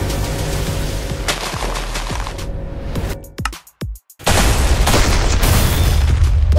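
Domain shattering effect in a Minecraft Jujutsu Kaisen mod, Sukuna against Gojo: a dense roaring barrage of booms and crackling bursts, broken by a brief near-silent gap of a few choppy hits before the loud rumble surges back.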